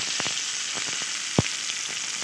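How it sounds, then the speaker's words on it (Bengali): Steady hiss of stuffed eggplant frying in hot oil, with soft crackles and one brief louder pop partway through. "এবার আমি নামিয়ে অপর বেগুনগুলো ঠিক একইভাবে ভেজে নেব"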